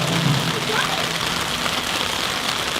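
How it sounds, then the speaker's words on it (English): Hail pelting down steadily during a hail storm, a dense, constant patter of ice striking the ground and surfaces, fairly close and loud, with faint voices underneath. "It is hailing."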